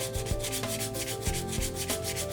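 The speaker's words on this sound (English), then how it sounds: "We're just going to go ahead and scuff the top of this rosin" Sandpaper scuffs the top of a cake of cello rosin in a steady, close, dry rubbing with a few slight bumps of the stroke, no voices.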